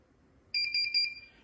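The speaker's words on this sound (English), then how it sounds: "And it beeped thrice, one more beep" A Xprinter XP-N160II WiFi receipt printer beeps during setup: a quick run of sharp, high electronic beeps in an uneven cluster, close and clear in a quiet room.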